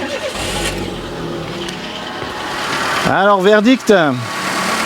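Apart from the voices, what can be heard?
Peugeot 207 engine starting and idling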